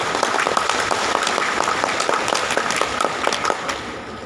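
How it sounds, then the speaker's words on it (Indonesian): Audience applause fills a graduation seminar hall for Universitas Terbuka graduates in Tangerang Selatan, a dense, steady wash of many hands clapping at close range that carries on throughout and eases slightly at the end. "Tepuk tangan buat."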